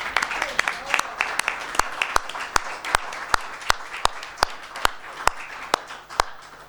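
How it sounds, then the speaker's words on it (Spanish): Scattered clapping, with sharp, evenly spaced claps standing out over a softer wash of applause from a small crowd at a book presentation. "tenemos que darle un aplauso a Vicente Boceta, que no se lo esperaba."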